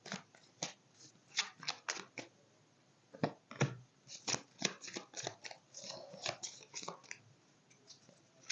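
New tarot cards shuffled by hand in a string of quick, crisp riffles and flutters with short pauses between, close and moderately loud, no speech.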